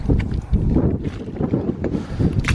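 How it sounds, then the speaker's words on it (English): Wind gusts buffet the microphone outdoors by mangroves, a rough, rumbling roar that swells and fades unevenly over a couple of seconds, close and fairly loud, with no talking. "The wind's just popped up."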